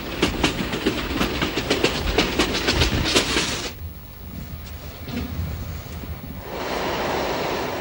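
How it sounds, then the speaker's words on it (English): Clickety-clack of a moving passenger train carrying migrant workers in 1970s Germany, loud rhythmic wheel rattle for several seconds, then a quieter rumbling stretch before the steady noise swells again. "Getting a fix on Mecca is not always easy in a moving train."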